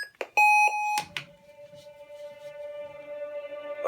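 A custom Sith Empire lightsaber sounds several sharp electronic beeps close up while cycling through sound fonts, followed by a lingering steady hum.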